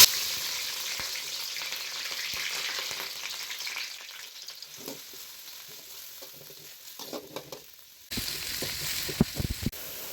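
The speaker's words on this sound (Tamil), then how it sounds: "இப்போ எண்ணெய் நல்லா சூடாயிடுச்சு, வெங்காயம் பச்சை மிளகா கருவேப்பிலை எண்ணெயில் சேர்த்துக்கலாம்" Onion, green chilli and curry leaves dropped into hot oil for a chicken curry, a bright sizzle that fades to a softer crackle with a few stirring scrapes, then a louder clatter near the end.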